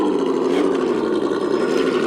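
Steady mid-pitched engine drone from a Dentside Ford Bronco spinning its wheels over a log in soft, unpacked dirt, loud and close, without obvious revving peaks.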